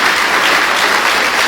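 A congregation at a Pentecostal church service claps together in a steady, dense wash of applause that holds at an even loudness throughout.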